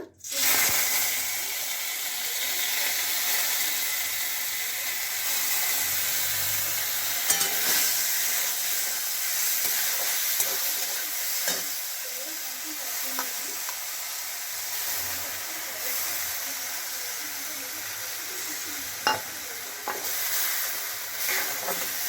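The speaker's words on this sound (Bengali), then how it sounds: "মুগ ডালগুলো আগে ভেজে নেব খিচুড়ির জন্য।" Washed mung dal frying in hot mustard oil in a kadai for khichuri: a continuous hissing sizzle with scattered stirring scrapes and small pops, heard up close without speech.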